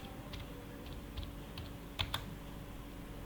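Someone types a caption on a computer keyboard, giving soft, irregular key clicks close by with a couple of sharper taps, over a quiet room hum.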